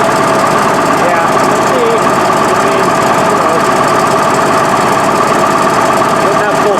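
A Case 1150 diesel engine with two broken injectors idles loud and close, a constant rough rattling drone with a knocking edge that never lets up, and voices may be buried in the noise.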